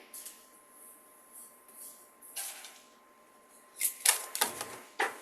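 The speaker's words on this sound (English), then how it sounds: "I shuffle and I like my cards to fly." Quick riffling and flicking of playing cards in short bursts, crisp papery snaps that grow sharper toward the end, close by.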